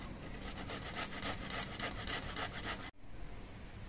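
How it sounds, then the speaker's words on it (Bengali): Fresh ginger being rubbed on a grater after onions, a steady rapid rasping with regular strokes, close and loud, breaking off briefly near the end before resuming. "এবার আমি অল্প একটু আদা নিয়েছি, এই আদাটাও আমি ঘষে নিচ্ছি।"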